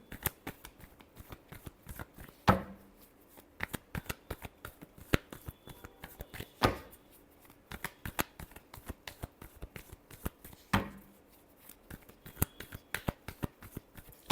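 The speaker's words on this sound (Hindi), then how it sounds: "लास्ट शफल, बहुत सारे कार्ड्स गिर गए, एक और कार्ड करेंगे।" Tarot cards being shuffled by hand, a continuous papery riffle and flutter broken by several sharp slaps as cards drop and fall onto a surface, close and fairly quiet with no talking.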